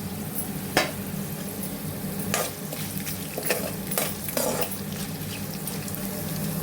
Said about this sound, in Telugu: ఇదిగండి పోపు ఎర్రగా వేగిపోయింది.